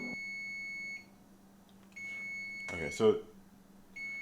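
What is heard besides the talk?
oven beeping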